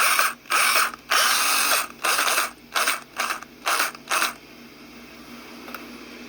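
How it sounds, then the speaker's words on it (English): An older Makita power drill, owned since around 1990, runs in about seven short bursts of whirring, each roughly a quarter to half a second long with brief gaps, then stops, leaving a quiet background. "This Makita drill here was a good one."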